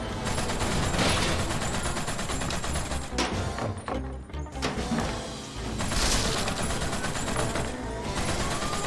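Turret gunfire from the video game WET roars in a loud, nearly continuous barrage of rapid shots and impacts, with only a brief dip in intensity partway through.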